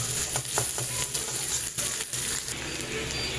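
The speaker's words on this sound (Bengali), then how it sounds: "পেঁয়াজটাকেও আমি হালকা লাল করে ভেজে নেব কড়াইয়ের মধ্যে, গ্যাসের আঁচটাকে হাই করে দিয়ে।" Sliced onion frying over high gas flame in a kadai, a steady loud sizzle with crackling spatter and occasional scraping stirs throughout.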